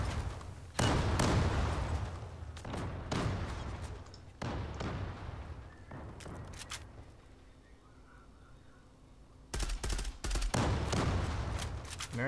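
Gunfire from a competitive team shooter video game during a tournament qualifier match: several bursts of rapid shots, loud and close, with a quieter lull in the middle before heavy firing resumes.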